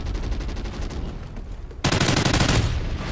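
Automatic gunfire from a video game shooter, a steady rattle of shots that bursts louder partway through and continues close and heavy to the end.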